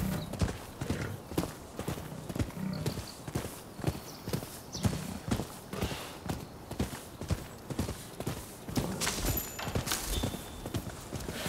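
Horse hooves clip-clopping at a steady riding rhythm in the video game Rise of the Ronin, fairly close and continuous, with occasional soft game effects and no talk over them.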